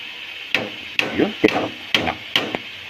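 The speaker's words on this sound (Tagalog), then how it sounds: "tinakpak po ulit yung sandok" A metal ladle taps on a cooking pan while chicken fries with bitter gourd, giving about five sharp ringing knocks at an uneven pace over a background sizzle, close and clear.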